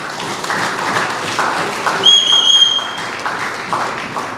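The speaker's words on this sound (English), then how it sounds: "I want you all to give yourself a round of applause tonight." Crowd at an outdoor evening meeting in Fyzabad applauds steadily, a broad wash of clapping with a brief whistle rising above it midway.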